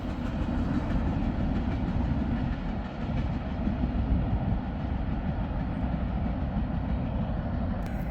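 A train rolls past close by in a loud, continuous rumble with rhythmic clattering of wheels on the rails throughout.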